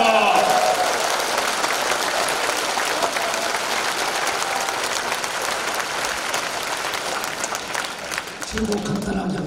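A congregation applauds at a Korean Presbyterian church thanksgiving service for a new vice moderator, a sustained burst of many hands clapping that fills the room, with a voice speaking over its start.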